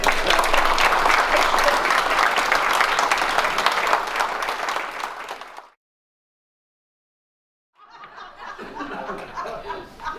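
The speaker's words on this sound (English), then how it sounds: "Here, can we clap for 15 seconds for these fine gentlemen?" Banquet audience clapping for honored gentlemen, steady loud applause with some chuckling for about five seconds, fading into silence before a later stretch of murmuring crowd noise.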